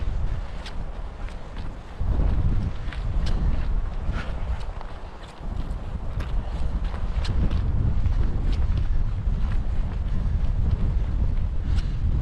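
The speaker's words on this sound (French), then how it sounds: "On va prendre le vent là," Strong wind buffets the microphone on a mountain footpath near a pass, a steady loud rushing roar with gusts that dip briefly midway, no voices.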